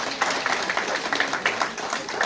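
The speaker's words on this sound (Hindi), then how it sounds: "तो सबसे से ताली बजाओ बच्चों मेक अ विश फाउंडेशन के लिए" Children in an audience clap for the Make a Wish Foundation at an International Childhood Cancer Day celebration in Noida, a moderately loud, uneven patter of many small hands that carries on steadily.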